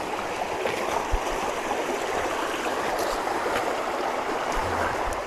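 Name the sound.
stream at a trail water crossing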